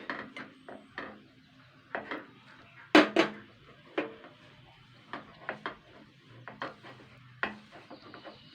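Yellow-coloured veg momo dough being kneaded and mixed by hand in a bowl, with soft irregular slaps, squishes and taps, one sharper knock against the bowl, close and fairly quiet with no talking.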